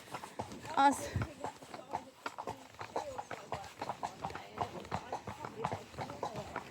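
Hooves clip-clop in a steady walking rhythm close by, with a person talking over the hoofbeats.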